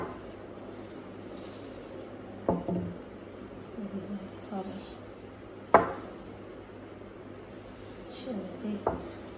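A spoon knocks against a pot while spices are mixed into homemade pickle (achar), giving a few sharp clinks and scrapes spaced several seconds apart under a voice.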